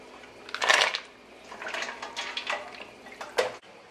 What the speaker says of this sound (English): This is where we're going to add the mussels.